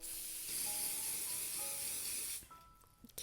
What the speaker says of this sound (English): Grab some hairspray